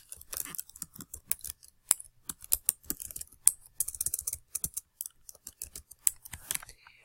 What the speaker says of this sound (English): I'm going to type that here